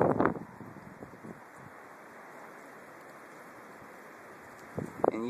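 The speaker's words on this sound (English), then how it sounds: "yeah, it's windy" Wind blows outdoors at night around 4 a.m. in January, a soft broadband rushing hiss that stays fairly steady, with brief louder gusts or bumps at the start and end.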